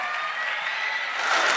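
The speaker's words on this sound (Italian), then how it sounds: "più forte e più bello l'applauso" Audience applause fills a live Christmas evening event in Ollolai, Sardinia, a steady wash of clapping that swells slightly toward the end, close and continuous.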